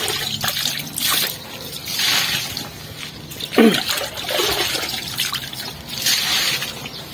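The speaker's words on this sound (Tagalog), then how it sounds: "para bumaba dito yung tubig" Water trickles and splashes steadily throughout, a continuous wet flow with brief splattering bursts, fairly close and alone.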